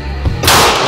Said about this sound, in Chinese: 枪支上膛，来开始射击。